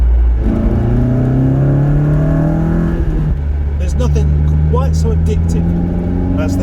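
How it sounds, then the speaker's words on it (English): An MG TF 135 with a K-Series engine and open air induction revs loudly and steadily near the listener, its drone rising and holding, while a voice talks over part of it. "That's the sound of a K-Series with its gob open."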